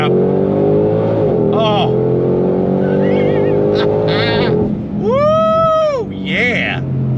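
Ford Shelby GT500 Mustang muscle car with a Tremec seven-speed dual-clutch transmission revs hard under throttle, its loud engine roaring and climbing in sweeping pitch rises with brief drops between. A man exclaims over the engine noise.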